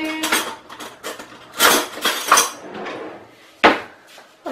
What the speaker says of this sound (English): I'm just going to get a spoon.